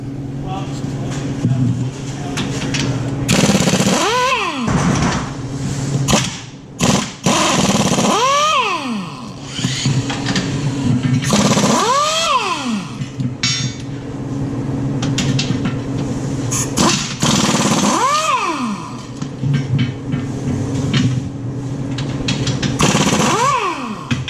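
Impact wrench loosening the bolts on the cutting edge of a Western MVP3 snowplow, with repeated loud whirring bursts and rising-falling tones roughly every four seconds, over a steady engine hum and occasional talk.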